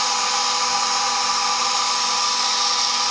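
Fire agate being ground on a 320 grit lapidary wheel, a steady high-pitched whine with a hissing grinding edge that holds level throughout, close and continuous with no talking.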